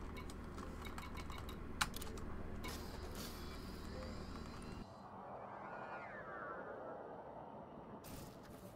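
Typing on a computer keyboard during a VR space game session, with soft scattered key clicks over a constant electronic hum that shifts partway through.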